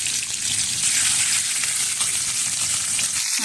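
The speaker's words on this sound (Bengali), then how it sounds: "মাছগুলো সুন্দর করে আমি ভেজে নিব।" Fish frying in a hot kadai with a loud, continuous crackling sizzle, close and steady throughout.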